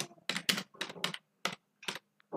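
Crisp keystrokes on a computer keyboard typing a short search word, a quick burst of about eight clicks in uneven rhythm, close and clear with brief pauses between them and no talking.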